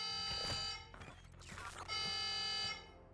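An alarm trips in the video game Black Ops 6, a loud, steady electronic alarm tone that blares for about a second, breaks off into mechanical clatter, then sounds again at full strength.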